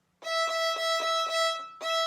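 A violin bowing one open string in a short repeated "peanut butter sandwich" rhythm, a pattern of separate strokes with a brief gap before the next one begins.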